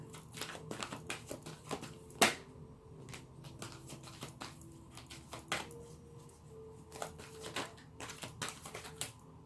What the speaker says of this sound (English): Why are you still shuffling?